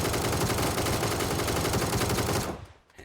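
M249 machine gun in PUBG, a long unbroken burst of rapid, dense automatic fire heard close and loud, cutting off sharply near the end and leaving a brief echo.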